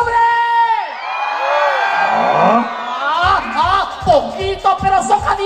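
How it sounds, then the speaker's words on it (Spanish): Men in a crowd at an outdoor patron-saint festival concert in Quezaltepeque shout and whoop together, loud and near, with a voice over amplified music and more whoops and cheers following. "¡Un grito a los hombres!"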